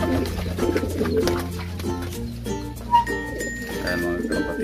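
Pigeon or dove cooing in low repeated calls, mixed with other ambient noise and a person talking nearby.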